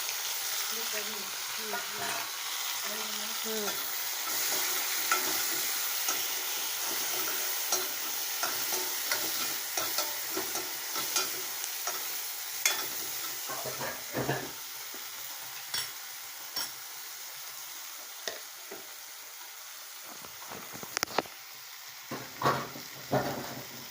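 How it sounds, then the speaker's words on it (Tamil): Tomatoes sautéing in a pan for potato kurma give a steady broadband sizzle, with scattered scraping stir strokes and clicks that grow more frequent toward the end; a faint voice briefly surfaces early on. "பொன் நிறமாக வதங்கினதுக்கப்புறம் தக்காளி போட்டுக்கலாம்."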